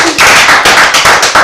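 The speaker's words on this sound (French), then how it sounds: "On applaudit pour les enfants s'il vous plaît." A live audience applauds for children on a TV show, loud, close clapping in rapid bursts filling the short moment with no talking.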